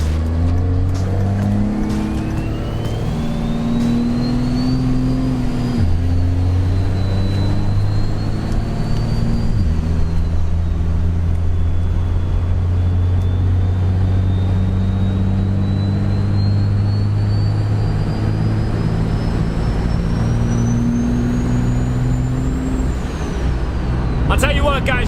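A compound-turbocharged second-generation diesel pickup drives steadily, its engine droning loudly and rising and falling through the gears with a high turbo whistle sweeping above, close and continuous without pause.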